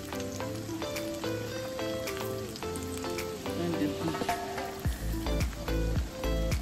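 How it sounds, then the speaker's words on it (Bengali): Sweets frying in hot oil until light golden brown, with an even, busy sizzle and bubbling and occasional stirring, plus a deep rumble toward the end. "আমরা এগুলোকে একটু লাইট গোল্ডেন ব্রাউন করেই ভাজবো"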